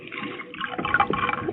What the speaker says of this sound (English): pardon me while I pour one for myself